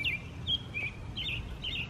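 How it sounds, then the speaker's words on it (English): Several birds sing outdoors in a meadow area with sheep nearby, giving short high chirps and trills in repeated bursts over a faint, steady low rumble of background noise. "The birds sound beautiful."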